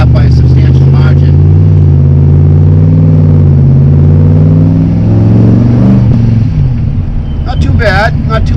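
A supercharged, non-intercooled Ford SVT Lightning pickup engine pulls hard under acceleration, its loud droning note climbing steadily in pitch before easing off and dropping near the end.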